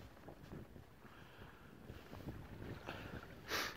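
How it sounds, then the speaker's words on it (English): A Tomahawk 25 sailboat runs downwind under sail with its engine off on a winter evening, water swishing and gurgling along the hull under steady wind noise, with a brief louder gust of wind on the microphone near the end. "Sail's been pushed out, now running. The wind's more or less behind us."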